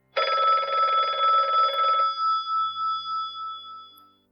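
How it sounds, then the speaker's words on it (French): A telephone bell rings in a bright trilling burst for about two seconds, then cuts off, leaving a fading hum; loud and close, with no voices over it. "Le téléphone retentit de nouveau vers 17h alors qu'il achevait son goûter."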